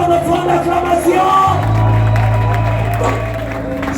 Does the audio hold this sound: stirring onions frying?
no